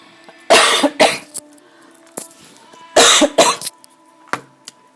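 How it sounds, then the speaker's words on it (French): Two clusters of harsh, loud coughs close to the mic, each a few rapid bursts, separated by a quiet pause with small throat sounds. "Pardon, je vais tousser."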